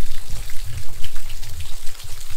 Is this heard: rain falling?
yes